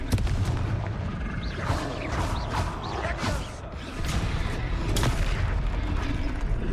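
A Confringo spell blast in the Hogwarts Legacy video game: several booming explosive bursts with crackling, creaking debris, some fading in a few swooping whooshes.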